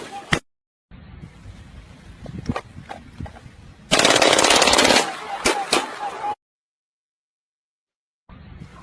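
Rapid automatic gunfire dumps a whole magazine in one dense, loud burst lasting about two seconds. Scattered single shots and mechanical clatter come before and after it, and a stretch of silence follows.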